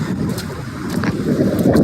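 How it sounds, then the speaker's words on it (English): Steady blustery wind in the rain on Scafell Pike roars across the microphone, rumbling and gusting continuously with low buffeting throughout. "it's been pouring down with rain and it's windy"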